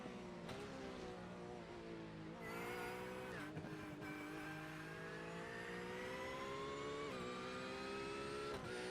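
GT3 race car in a sim racing game at Laguna Seca, rejoining the circuit from the pit lane, engine revving through climbing gear shifts with brief tire noise, steady and fairly faint, without talk.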